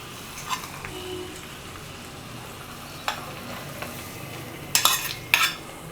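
Potato masala with curry leaves and coriander stirred in a pan, a steady sizzle under a spoon scraping and mixing, with several sharp metallic taps toward the end.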